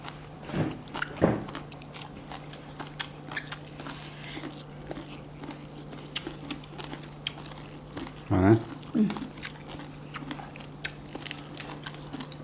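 Spicy Thai papaya salad (som tam) eaten with a spoon, with close, soft chewing and a few crunchy bites and crinkles in a quiet room, with faint speech between mouthfuls.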